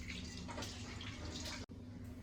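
Water runs steadily into a bowl of fresh rabbit meat for washing, a continuous close splashing rush with a brief break near the end.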